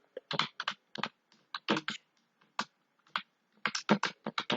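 Bursts of keystrokes on a computer keyboard while JavaScript code is typed, clicking in irregular clusters with short pauses between them, close and clear with no talking.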